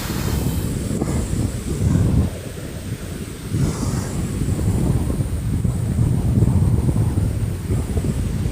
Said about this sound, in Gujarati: આ છે અમારા ગામની નદી, તો જુઓ